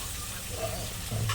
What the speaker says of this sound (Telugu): ఆయిల్ అయితే వేడెక్కేసింది ఉల్లిపాయలు అయితే వేసేస్తున్నాను